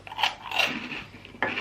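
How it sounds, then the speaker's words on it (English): Crunching bites into a crouton from a meat-free meal kit dinner, a few dry, brittle crackles close to the mouth, with a sharp fresh crunch near the end. "Crunchy crouton."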